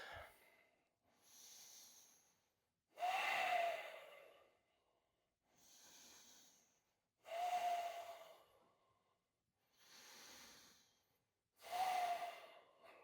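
Slow, deep breathing during a lower-body yoga recovery session: long inhales and exhales alternate in an unhurried rhythm, each breath clearly audible and close, with no talking.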